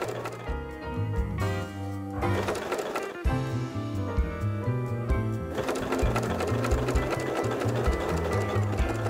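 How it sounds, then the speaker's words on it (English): A sewing machine runs steadily while stitching a fabric casserole dish carrier, a loud, continuous mechanical whir with fast rhythmic needle clatter, close up and without pause. "And now we'll just sew, and we're good to go."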